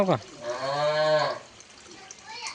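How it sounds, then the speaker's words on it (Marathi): A cow moos once, a single drawn-out bellowing low lasting about a second, heard close by in a village setting in the rain, with brief voices and household noise around it. "गुरा आरडता इकडं"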